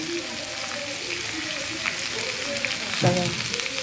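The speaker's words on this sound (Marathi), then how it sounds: "कांदा टाकला, थोडंसं हलवून घ्यायचं त्याला आपण" Chopped onion fries on a clay griddle, giving a steady, even sizzle close by, with a voice talking over it throughout.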